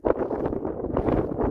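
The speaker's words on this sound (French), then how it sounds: "Il y a du vent, moins qu'au cap là-bas." Wind buffets a microphone outdoors beside a roadside embankment, a close, steady rumbling roar that swells and dips over a second and a half.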